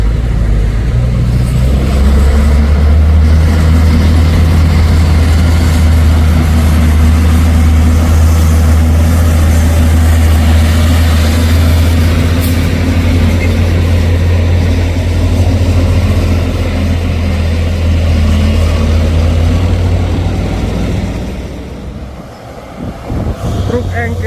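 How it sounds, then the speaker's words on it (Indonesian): A Fuso 6x2 engkel truck idles with a loud, steady low engine drone, its heavy rumble holding constant before easing slightly near the end. "Truk engkel Fuso 6x2."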